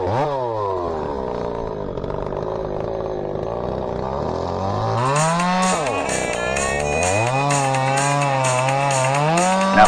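A ported chainsaw, wound up to about 15,600 rpm, runs at a high whine and then bogs and recovers as it cuts through logs, loud and close for the whole stretch.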